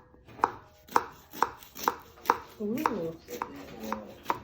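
A knife crunches through the flaky crust of a home-baked apple pie in a steady run of about eight crisp, evenly spaced cuts, close up, with a brief voice exclaiming partway through.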